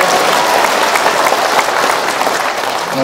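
Loud, dense applause from an audience at a Korean rally in Daejeon for a lecturer who has just finished speaking, sustained evenly throughout.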